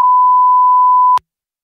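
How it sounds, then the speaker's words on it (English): A single steady censor bleep, a pure tone held loud for just over a second in a podcast, then cut off abruptly into silence. "Yeah, I think they're going to want us to beep that out, too."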